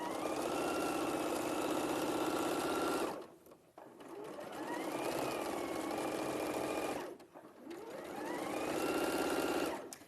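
A sewing machine stitching fabric, running in steady whirring stretches of a few seconds each, with short pauses between them as the stitching stops and restarts, close and fairly quiet.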